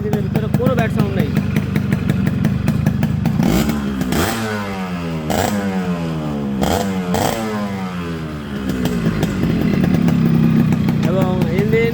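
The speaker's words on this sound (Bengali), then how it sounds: "এবং ইঞ্জিনের ভিতরে কোনো ব্যাড সাউন্ড নেই।" A Yamaha RXS 115 motorcycle engine runs steadily with a rhythmic, clattery two-stroke tone, rising and falling slightly in revs, recorded up close with a person talking over it.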